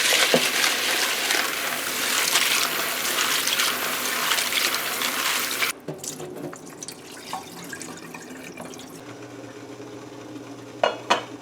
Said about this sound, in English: we're gonna wash the dal and get that in the pot